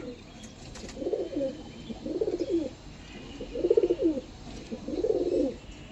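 Large long-feathered pigeons coo in four regular, evenly spaced bouts, each a soft rolling burble, fairly close with a steady low background hiss and no talking.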